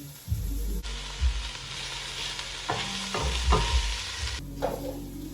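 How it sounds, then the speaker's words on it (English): Vegetables frying in coconut oil in a pot for a vegan West African nut stew, stirred with repeated scraping strokes over a loud, continuous close sizzle that drops in intensity near the end; no talking. "So you wanna coat all the vegetables lightly in the oil, so just keep mixing it up."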